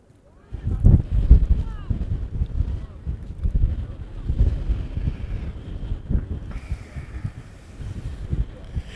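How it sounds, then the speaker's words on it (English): Gusty wind buffets the microphone at an outdoor girls' varsity soccer game, a low rumbling roar rising and falling across the whole stretch, with faint voices in the background. "Wind is picking up."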